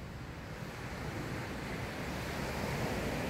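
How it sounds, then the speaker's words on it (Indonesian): Ocean waves wash onto Stanley Beach, Hong Kong, in the evening, a steady soft roar of surf mixed with wind noise on the microphone, distant and fairly faint, with no voices. "Suara ombaknya"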